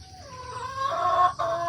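A hen clucks close by in a short, rising, throaty call from a nest box, loud and alone.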